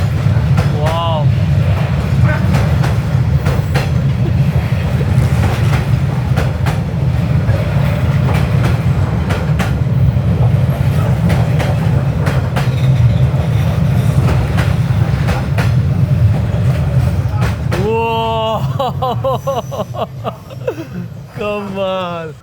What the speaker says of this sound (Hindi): इतनी करीब से ट्रेन आपकी गुजरी गई है